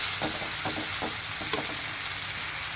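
Coriander leaves frying in a spiced oil tempering give a continuous close sizzle, broken by several soft stirring scrapes in a loose irregular rhythm.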